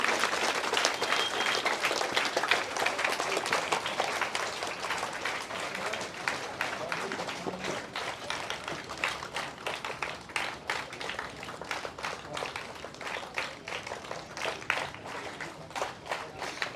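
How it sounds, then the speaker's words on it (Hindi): An audience at an Independence Day celebration in Banaras gives a scout clap to welcome guests: loud, rhythmic bursts of group clapping in a steady beat, with voices heard alongside. "सब लोग तालियों की गड़गड़ाहट के साथ में अपने मेहमान का हम खैर मकदम करते हैं।"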